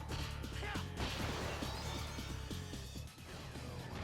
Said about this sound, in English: you can slam them through the wall, destroying it in the process